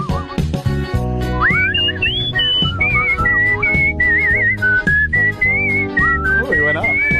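A man whistles a lively, warbling tune with sliding pitches over loud background music, the whistling steady and prominent throughout.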